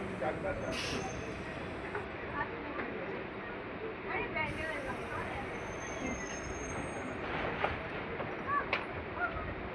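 A local train pulls out of Garifa station near Naihati, with a low rumble of wheels on the rails, a few faint high squeals and clanks, and some background voices in the carriage.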